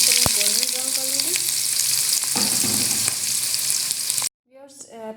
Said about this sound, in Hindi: इसमें मैंने आधा कप जो है ऑयल का डाला है प्याज फ्राई करने के लिए।